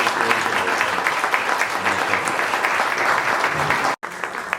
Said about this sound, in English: why don't we give a round of applause to all of our